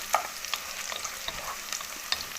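Garlic fries in a pan for shrimp soup, giving a soft, steady sizzle with light clicks and scrapes as it is stirred, no talking.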